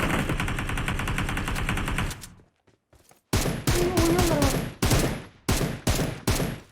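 Video game gunfire while shooting bots: a long rapid automatic burst, a short pause, then several loud close bursts in quick succession, with no talk.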